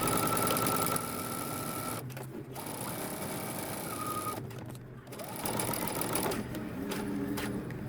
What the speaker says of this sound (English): we're going to stitch from that dot all the way up